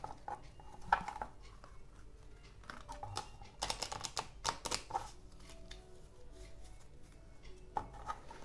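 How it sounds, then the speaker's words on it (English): A pile of playing cards is shuffled by hand during a card trick, giving quiet, irregular riffling clicks and flutters that rise briefly in the middle, with no one talking. "Okay, so first I would shuffle my pile."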